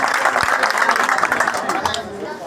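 Applause from a crowd welcoming AAP candidate Anurag Dhanda at a 2024 assembly election rally in Kalayat, a steady clatter of clapping that fades slightly toward the end, with a voice speaking over it.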